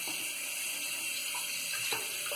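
Warm tap water runs steadily into a bathroom sink being filled halfway for shaving lather, a continuous close hiss with faint splashy detail and no talk.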